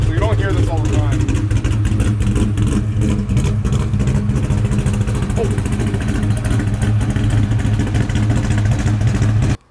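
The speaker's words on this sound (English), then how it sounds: "every time I start this car, I'm like, I really don't want to sell it because there's something about an old school chop" A 1992 Ford Mustang Fox Body GT V8 runs loud and close, with a throaty, steady rumble and a constant heavy drone that holds for nearly ten seconds before cutting off abruptly.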